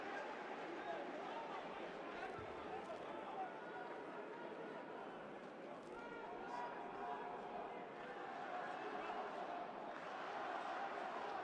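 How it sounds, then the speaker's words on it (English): A dense crowd roars and cheers continuously in an arena during a Basketball Champions League game between Avtodor and Pinar Karsiyaka, a broad sustained swell of noise with commentary voices over it. "the big cheer tells you which way it's gone"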